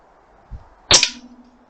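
An AP900 air pistol firing a Rangemaster Sovereign pellet gives one sharp, loud, close crack with a metallic ring that fades, after a faint softer thump just before it.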